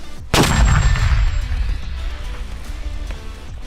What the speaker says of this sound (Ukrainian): По тим самим координатам одна міна вогонь!